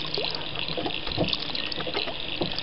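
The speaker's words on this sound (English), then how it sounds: "Pour it in a bowl, do you?" Water poured into a bowl outdoors, a steady close trickle and splash lasting the whole moment, with no talk over it.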